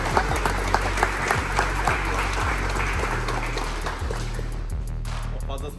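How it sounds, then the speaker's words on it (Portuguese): A group at a combat-sports training gym gives visiting guests a round of applause, sustained clapping from a crowd close by, with dull thumps and some voices mixed in before it thins toward the end. "Queria pedir uma salva de palmas para os visitantes."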